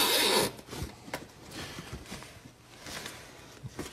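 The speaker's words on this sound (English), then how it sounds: "Take an additional zip tie" A plastic zip tie is pulled tight during a roadside car repair, giving a sharp ratcheting burst at the start followed by quieter clicks and handling noises, close up with no talk.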